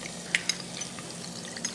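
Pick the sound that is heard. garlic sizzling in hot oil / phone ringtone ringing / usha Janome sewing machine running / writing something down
garlic sizzling in hot oil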